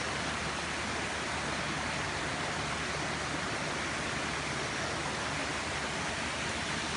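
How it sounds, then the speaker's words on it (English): Natural waterfall in the Wayanad rainforest of Kerala, a steady, dense roar of falling water that holds constant and close throughout, with no voices. "So here we have a natural waterfall, which is quite beautiful."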